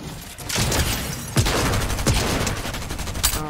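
Gunfire in a video game, a close, loud flurry of sharp shots and bursts with a few heavier cracks standing out, continuous throughout with no talk.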